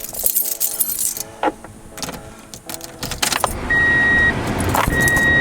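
Keys jangle in bright metallic bursts beside a car, repeated shakes and clinks over a few seconds, followed by a steady electronic chime tone.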